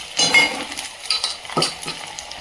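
Ginger-garlic paste is spooned into a frying pan for a gram-flour dish, giving a few soft metallic scrapes and clinks of a spoon against the pan with a light sizzle, close and quiet.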